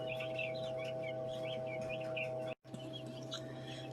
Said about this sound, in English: first baby quail of the 63 hatched